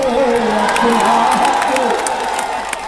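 Loud, sustained applause and cheering from a large crowd at a farmers' mahapanchayat rally in Meerut, a dense roar of clapping and shouts that eases slightly toward the end.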